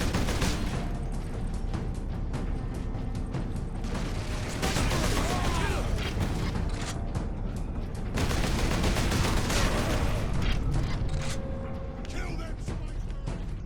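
Sustained gunfire from the video game Warhammer 40,000: Space Marine, dense rapid bursts layered with explosive impacts and game effects, loud and continuous, with someone talking over the battle.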